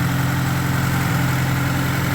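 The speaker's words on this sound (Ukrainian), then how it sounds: "Мотор робить, не димить, не чадить" VAZ 21013 car engine idling up close, a steady, even low rumble with a constant throb and no revving.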